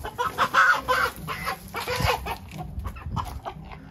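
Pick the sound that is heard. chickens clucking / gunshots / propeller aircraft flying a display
chickens clucking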